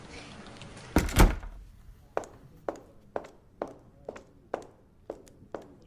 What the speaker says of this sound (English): Please, come in and close the door behind you if you would.